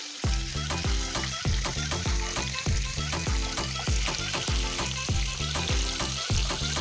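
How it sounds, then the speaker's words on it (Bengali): Marinated rui fish pieces fry in hot oil, a steady close sizzle broken by repeated rhythmic tapping and scraping of a utensil in the pan. "এবার মাছটিকে আমি ভালো করে ভেজে নেব"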